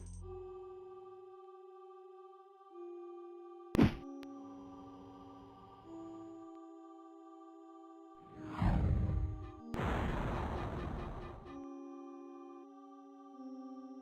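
An explosion spell goes off in The Elder Scrolls: Arena on PC, two loud roaring bursts, the first sweeping downward like a whoosh, set against steady electronic game music tones.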